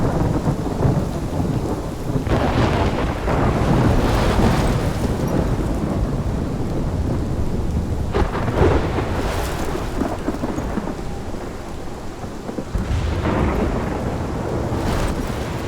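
Thunderstorm in the video game Life is Strange, heavy rain pouring steadily with several deep rolling thunder crashes swelling and fading across the stretch, loud and enveloping with no talk.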